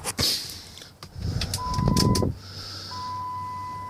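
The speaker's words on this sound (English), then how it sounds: "let's run over and start this truck" A 2007 Dodge Ram with the 5.9 Cummins engine cranks and starts with a brief grinding burst, then settles into a steady idle while a thin electronic warning tone sounds over it, fairly close by.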